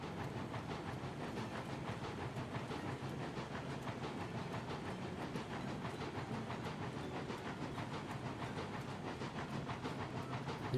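A steam locomotive labours under a heavy load in the railroad game Railroads Online, giving a continuous rhythmic chuffing with hiss and rail clatter at a steady, even loudness and no voices.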